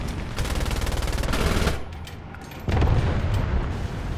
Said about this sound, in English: This machine gun is kinda crappy.